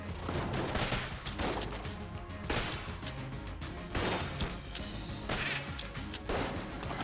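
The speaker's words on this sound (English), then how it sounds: "Whoa, that's a whole lot of explosion." Dense video game combat in Enter the Gungeon: rapid gunfire volleys and booming explosions crash in repeated loud bursts, layered almost continuously and close, with no talking over them.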